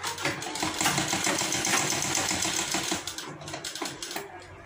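A sewing machine stitches along the edge of a half-collar kurti, running in a fast, steady close whir that eases off and stutters toward the end, with no talk.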